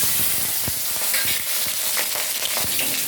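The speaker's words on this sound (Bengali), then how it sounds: "এবারে কড়াইতে সর্ষের তেল দিয়ে দিলাম আর এখানে কাঁচা লঙ্কা পাঁচফোড়ন কালো জিরে সর্ষে" Mustard oil crackles and sizzles hard in a hot kadai with green chillies, panch phoron, nigella and mustard seeds, a loud, steady fry broken by sharp pops and the scrape of stirring, close up with no voices.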